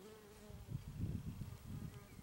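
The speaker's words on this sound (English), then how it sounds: "I'm not exactly sure what kind of bees are in this Astrophytum, but they seem to be liking it." Large carpenter bees buzzing around an Astrophytum cactus in the desert, a low, wavering drone, swelling and fading as they move close by, with no voices.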